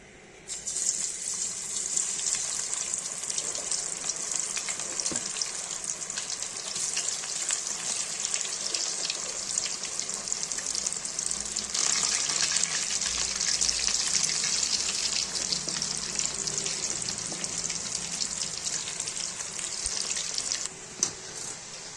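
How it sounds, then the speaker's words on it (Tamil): Garlic cloves and curry leaves fry in hot oil in a kadai, giving a loud, continuous hiss and crackle that swells in the middle and carries on without talk. "ஒரு நாலு பல் போட்டிருக்கேன் இதில் வந்து ஒரு கருவேப்பிலை போட்டுடலாம் நல்லா பொரியட்டும்"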